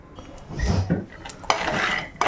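Peanuts being stirred and dry-roasted in a pan while preparing calcium-protein laddu: scraping, rattling strokes of a utensil against the metal in a couple of bursts, with the nuts shifting and clinking in between.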